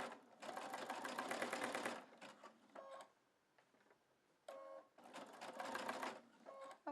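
Close domestic sewing machine stitching a rope coil Easter basket, running in steady bursts with brief pauses and a few light mechanical clicks between runs, no talking.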